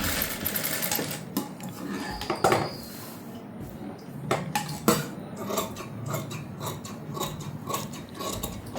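A sewing machine stitches a prince cut blouse along the piping seam, its needle running in a steady mechanical rattle with brief pauses and clicks, close and fairly loud with no talk.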